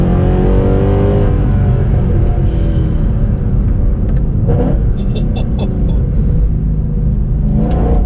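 Mercedes C63 Black Series accelerating hard, a loud close engine roar climbing steadily through the revs without a break, with a rising whine and rumble filling the whole stretch.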